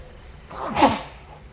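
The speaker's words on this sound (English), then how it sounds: "Oh, nice sneeze, yeah." A single loud, close human sneeze, a quick inhale swelling into a sharp burst that fades within about a second.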